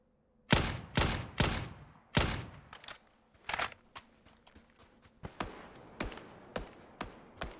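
Rapid bursts of gunfire in PUBG on the Vikendi map, several loud shots early then a quicker run of sharper, lighter pops, with no talking.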